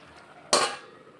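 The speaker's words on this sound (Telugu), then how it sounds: "మూత పెట్టి తీసేద్దామండి" A metal lid lands on a cooking pan of masala broad beans on the stove with a single sharp, close clank that rings out briefly, heard alone.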